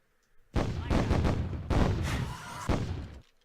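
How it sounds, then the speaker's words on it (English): Airstrike explosions from the video game Myth: The Fallen Lords, a run of heavy booming blasts one after another over about three seconds, loud and close with no talking. "So, first use of an airstrike."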